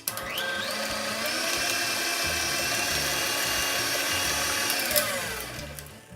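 An electric hand mixer beats a spoonful of vanilla into cake batter for pineapple cake, a steady close motor whine holding for about five seconds, then winding down.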